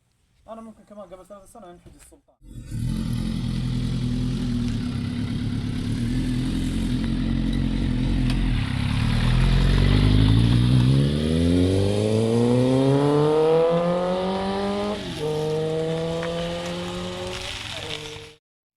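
A superbike's engine on a road trip near Medina's largest mountain: after a brief voice, a loud, close engine roars steadily, then its revving pitch climbs through rising gear sweeps.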